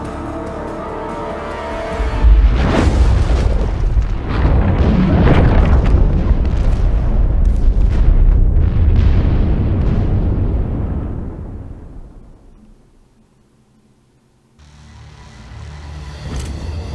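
Heavy explosions rumble after a firing command in The Expanse: A Telltale Series, a long, loud roaring blast sequence that fades to near silence before another rumble swells back in.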